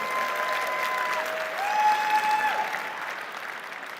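Audience applause at the Slush 2022 startup conference fills the hall steadily, with some faint cheering tones under the clapping.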